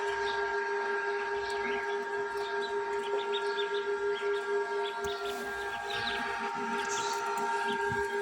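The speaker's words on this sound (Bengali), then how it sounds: "ছোট্ট কোয়েল পাখির বাচ্চা।" Thin, high chirps from newly hatched quail chicks come in scattered bursts over a steady electrical hum from an incubator and low background rumble.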